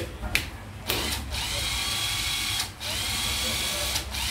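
A Panasonic EZ7206 12V cordless screwdriver runs up close in several loud, steady whirring bursts separated by brief pauses, with talk faintly present.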